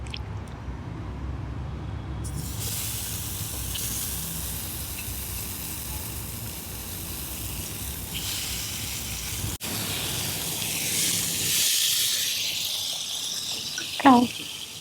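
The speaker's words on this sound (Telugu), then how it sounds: "ఆయిల్ హీట్ ఎక్కింది కదా, ఇప్పుడు మ్యారినేట్ చేసుకుని చికెన్ ఇవ్వండి." Marinated chicken pieces frying in hot oil for homemade street-style chicken shawarma, with a steady, loud sizzling hiss that carries on throughout and briefly rises toward the end.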